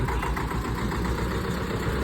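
A tractor engine chugs at a low, steady rumble, fairly close and continuous with no clear rise in loudness, and no voices over it.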